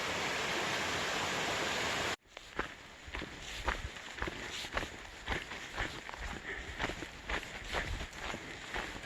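A loud waterfall rushes steadily, then cuts off abruptly, and a hiker's footsteps crunch along a wet mountain trail in rain, close and irregular.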